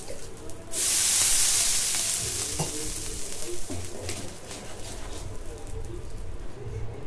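Water splashed onto a hot oiled iron tawa for dosa bursts into a loud, steady sizzle and hiss that slowly settles, with faint clinks and scraping over the crackle.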